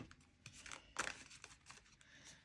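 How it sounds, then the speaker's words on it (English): A tarot card deck is shuffled by hand, giving a few quick papery riffles and crinkling flicks close to the microphone, with one louder burst in the middle. "actually going to shuffle this deck."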